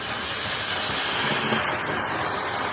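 A two-cylinder steam locomotive, one of a class of 30, runs steadily at a moderate distance, giving a continuous broadband rumble and hiss with faint rhythmic clatter.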